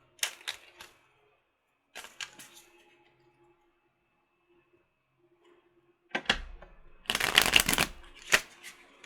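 Tarot of Sexual Magic cards being shuffled, with bursts of riffling and flicking near the mic, a few short bursts early, then a long dense flurry of card snaps toward the end with a quiet pause between.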